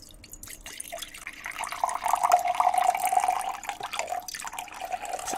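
Water poured into a glass for ASMR gives a close trickling, splashing stream that swells in the middle and then tapers, heard on its own.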